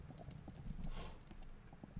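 Horse hooves clip-clop in the side-scrolling video game Kingdom: New Lands, a quiet, steady run of light thudding steps under faint ambient game sound, with no talk.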